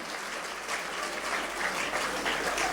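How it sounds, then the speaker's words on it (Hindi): Audience applause at a large Hindi poetry gathering during a Jain festival, a dense steady clapping that swells slightly toward the end, with no voices over it. "एक बार उनके सम्मान में आपकी जोरदार तालियां बजाइए"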